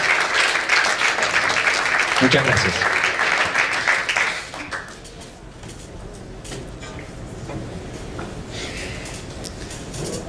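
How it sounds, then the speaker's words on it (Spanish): Applause for panelists at a public financial management forum: a dense burst of clapping from the audience lasting about four seconds, then a few scattered claps under quieter room sound and a brief voice. "Les pido una ronda de aplausos para nuestros panelistas."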